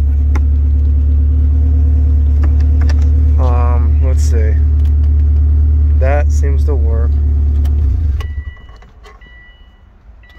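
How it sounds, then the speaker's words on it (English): A Subaru car engine idles loud and steady with a deep low rumble, under brief talk, then cuts off near the end, leaving a quiet cabin with faint clicks. "That sounds like a Subaru."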